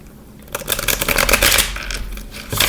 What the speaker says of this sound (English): I'll just shuffle a little bit more and then pick some more cards